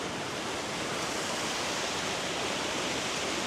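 Water pours down the Cascades at Lake Mohegan, a dense, unbroken rushing roar that stays loud and constant with no other sounds.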